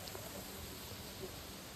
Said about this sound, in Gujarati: તમારા ગામમાં આવો વરસાદ છે